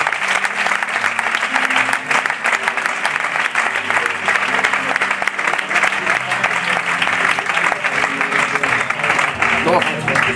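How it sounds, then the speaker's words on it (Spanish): A church congregation breaks into loud, dense applause during a worship service, steady clapping lasting about ten seconds with voices and shouts mixed in. "Un fuerte aplauso y que Dios."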